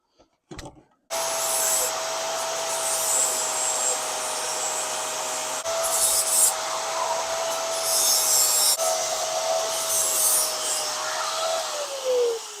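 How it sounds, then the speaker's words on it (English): Weld beads being ground smooth with a grinder on metal: a loud, continuous close whine with a steady tonal pitch that dips briefly as the grinder bites, running over twelve seconds with no talk. "And then we just grind them smooth."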